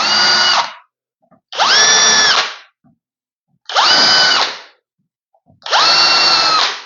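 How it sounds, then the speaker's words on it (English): Power drill pre-drilling a 5mm hole in OSB sheet, four loud close bursts, each lasting about a second, with a whining motor pitch that rises and falls, separated by short pauses, no voices. "I can just hold it with my hand and just pre-drill."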